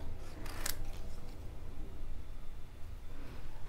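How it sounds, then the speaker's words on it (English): Scissors make a few quick close snips while fussy cutting stamped paper pieces, with a sharp cluster of cuts early on and then quiet handling. "So go ahead and give all these items a quick little fussy cut."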